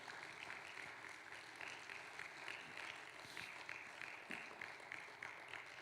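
Faint, steady applause from a church congregation, continuous dense clapping that holds an even level from start to finish with no speech standing out.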